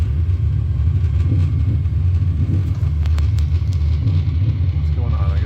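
Jet airliner engines at full thrust on a takeoff roll in a flight simulator, a heavy, steady low rumble filling the whole stretch, with a person talking over it.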